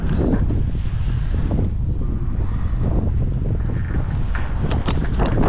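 Strong wind roars and buffets the microphone continuously, a loud rumbling rush with occasional creaks, at an outdoor worksite in Canada.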